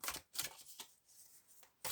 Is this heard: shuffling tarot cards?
yes